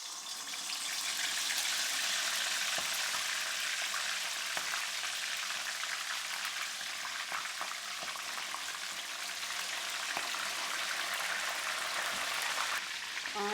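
Chicken pieces fry in hot oil over medium heat, giving a dense, steady sizzle and bubbling hiss that carries on evenly throughout, with faint pops and no talking.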